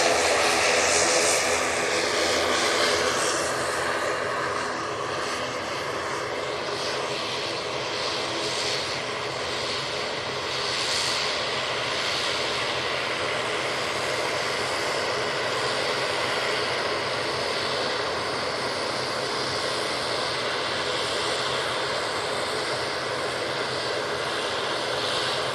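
An airliner at Manchester Airport roars loud and close, a thick, sustained engine rumble with a hissing top that stays nearly level throughout, with no voices over it.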